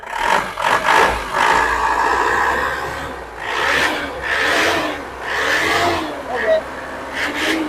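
The engine of a 2004 Isuzu Panther LM runs with a low steady hum beneath people talking nearby, which covers most of it, along with faint rattles and scraping handling noises.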